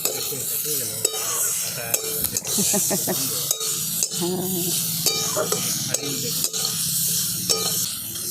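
Spices with slit green chillies and a little cumin powder being stir-fried in a pan for a gadal leaf curry, with steady sizzling and repeated scraping strokes of a spoon, close and fairly loud, no talk.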